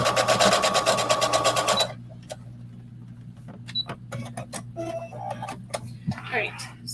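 Sewing machine stitching sports bra straps in a rapid, steady run of needle strokes for about two seconds, loud and close, then stopping, followed by scattered small handling clicks and rustles.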